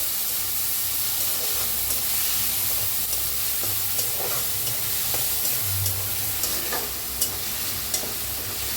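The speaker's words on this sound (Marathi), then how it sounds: "आता छान भाजले बघा" Tomatoes frying with garlic and chili paste, a dense continuous sizzle and hiss close up, with soft stirring knocks scattered through and no talking.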